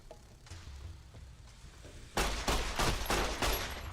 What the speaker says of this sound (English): Let's use the auto pistol.